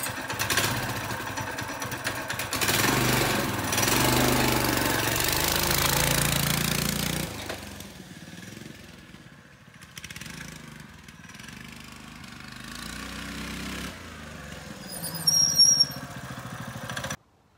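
Small single-cylinder engine of a Coleman CT200U mini bike fitted with a torque converter, revving hard and loud at first, then dropping to a lower, uneven idle and running note with brief surges near the end.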